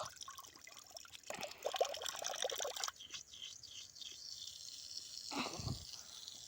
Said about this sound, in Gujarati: આ જેવી તમે મોટરને પાણીમાં નાખો ને એ ભેગું જ મિત્રો પાણી આવી જાય